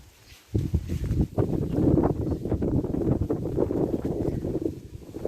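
Steady, loud wind buffeting the microphone in a Ukrainian village garden, a continuous low rumbling roar with gusty swells and no voices.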